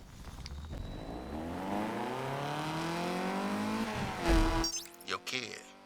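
A car in the PS5 racing game Need for Speed Unbound revs up with a rising, harmonic-rich engine tone, climbing steadily for several seconds before a sharp shift or lift near the end, loud and up front.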